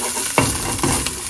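Spices for chana masala frying in a pan, a close sizzle broken by a few sharp pops and stirring scrapes over a bit more than a second.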